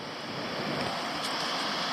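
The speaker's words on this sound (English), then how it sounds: "it's really an impressive waterfall." Waterfall at Tia Falls in New South Wales, flowing in the rain, gives a steady, dense rushing roar that holds at an even loudness throughout.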